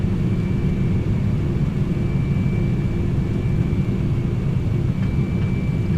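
An MD-11's thrust reversers roar during landing rollout in a flight simulator, a loud, steady, low rumbling wash of engine noise with a thin constant tone above it and no speech.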